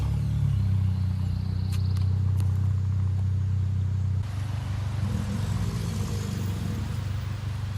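A car engine drones steadily and loudly at a constant pitch, then shifts to a rougher rumble partway through, with no talking.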